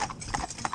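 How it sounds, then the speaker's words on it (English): Hooves of young horses working together in a four-in-hand team clip-clop in a quick, uneven patter, close by and fairly soft, over a brief moment. "what we're doing here is training young horses to work together and to be reasonably happy in other horses' company"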